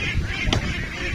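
Two-month-old ducks call with a brief honking cry from one bird, close by, over a steady noisy outdoor background on open pasture.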